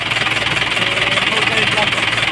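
A tractor engine runs steadily while clearing a ground, a continuous close mid-pitched drone with no breaks, and a few people talk over it.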